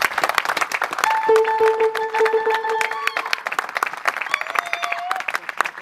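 Church congregation clapping and cheering in worship, dense rapid applause throughout with sustained high shouts and whoops rising above it, loud and close.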